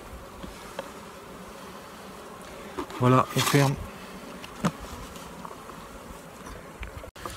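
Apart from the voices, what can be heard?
honeybees buzzing in a hive compartment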